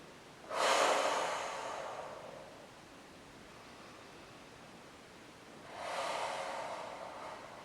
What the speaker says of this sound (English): Big breath into your lower back. Exhale all the air out.